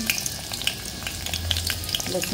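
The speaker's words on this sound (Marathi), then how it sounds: "पहिल्यांदा यामध्ये मी घालते लसूण" Garlic fries in hot oil in a pot for tempering, a close, steady crackling sizzle with sharp pops scattered throughout.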